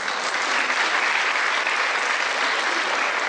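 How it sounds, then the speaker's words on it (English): Sustained clapping from an orientation audience honouring a staff member, a thick, uniform wash of many hands that stays constant throughout with no voices. "Please clap for Bhavna ma'am now"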